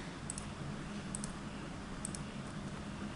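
Mouse clicks in Excel with the Control key held, several crisp double clicks in close pairs, quiet and near over a soft steady room hum, no talking.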